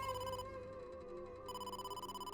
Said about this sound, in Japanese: 突然ですまないがネムニスから電話だ